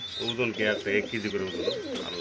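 Racer pigeons coo at close range in soft, repeated throaty phrases, mixed with light chirps, while a person talks over them.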